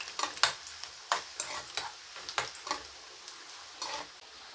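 Leftover chapati pieces frying in a pan give a soft sizzle broken by a string of sharp spatula scrapes and clatters, close but fairly quiet, with no talking.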